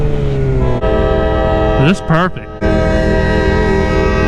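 Train passing near a roadside, heard from a stopped motorcycle, with a loud steady rumble and a blaring horn in two wavering blasts midway, while a rider talks over the noise.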